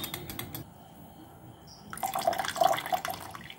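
A small splash of water is poured over used tea leaves in a kitchen, a short trickling pour starting partway through after near-quiet, close and moderately loud, with brief dripping.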